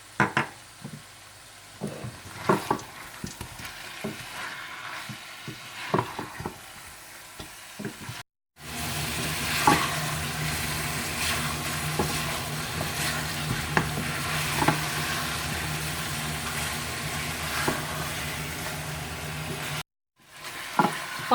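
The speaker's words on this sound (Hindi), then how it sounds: "सुरख मिर्च पाउडर डाल दें और अच्छी तरह से भून लें" Whole spices with turmeric and red chilli powder sizzle and fry in a pan for a biryani, stirred with scattered clicks at first, then a steady loud sizzle, with no talking.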